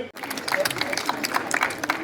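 Applause greets a guest, a retired High Court judge, being welcomed on stage at an annual award ceremony and cultural program; dense clapping from a crowd runs steadily throughout at moderate volume, with some voices mixed in.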